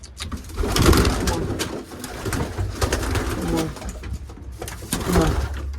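Soft racing pigeon coos repeat close by, low and throaty, with faint rustling and background noise between the calls.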